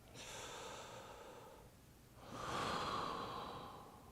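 Heavy, slow breathing during an intense yoga stretch: one long audible exhale, a brief pause, then a second, stronger breath that swells and trails off, close and alone without talk.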